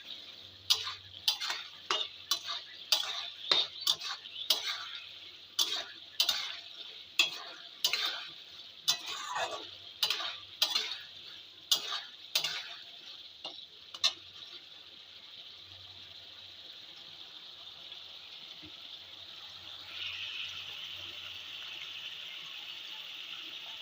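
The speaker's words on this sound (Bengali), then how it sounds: "ফের একবার নেড়ে দেবো" A spoon scrapes and taps around a pan of cauliflower curry with tomato ketchup, about twenty sharp regular strokes close by, then the stirring stops and a soft sizzle carries on alone.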